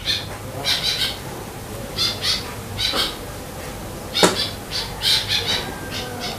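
Crow-like squawks in short, harsh bursts repeat through the stretch, some doubled, over a steady low background hum at moderate distance, with one sharper louder call partway through.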